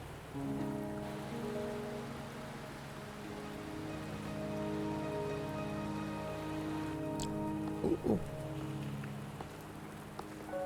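Steady rain patters across surfaces in Wuthering Waves, a continuous soft wash under layered musical tones, with a few brief clicks near the end.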